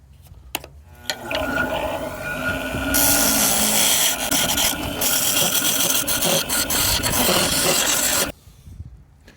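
A gouge cutting a piece of firewood spinning on a wood lathe, a sustained loud close scraping and rasping roar lasting several seconds, framed by a few short knocks before and quiet after.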